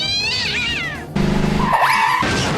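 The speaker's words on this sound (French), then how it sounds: "Crève, saleté de chat." A cat in an animated French parody meows loudly and close up, two drawn-out, wavering cries separated by a brief burst of other noise, with no talking.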